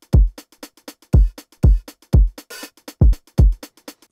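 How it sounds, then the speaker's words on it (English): Programmed drum loop of punchy kicks with crisp hi-hat ticks between them, the hats squashed by heavy sidechain compression each time a kick lands, giving a steady pumping groove with one brief noisy hit mid-loop. "this compressor will only compress the hi-hats every time the kick hits"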